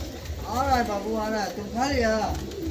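Two rounds of low, throaty cooing from an old desi pigeon, each a rolling wavering call, fairly close and clear over a quiet background.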